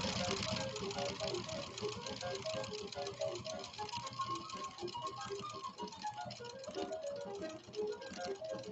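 A 1990s Pfaff Creative 1471 sewing machine running a test seam, producing a steady mechanical whir with rapid, regular needle ticking that holds at an even pace throughout.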